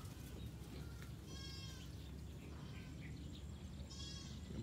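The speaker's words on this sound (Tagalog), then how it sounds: "Yan po, nakakalat ang mga kambing." Goats scattered across a farm bleat several times at a distance, short wavering calls over a constant loud background hum.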